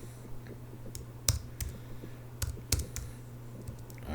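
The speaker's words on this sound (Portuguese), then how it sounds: "Que esse teclado tá horrível." Someone types on a noisy computer keyboard, with irregular sharp clicks and clacks of keys over a steady low hum.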